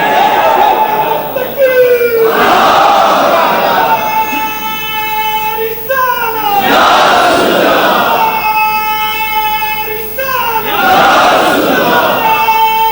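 A large crowd at an outdoor religious sermon chants slogans in loud unison, with long rising vocal calls repeating in waves roughly every few seconds, echoing over a public address system.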